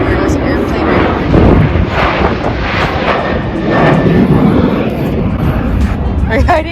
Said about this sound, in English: There was an airplane right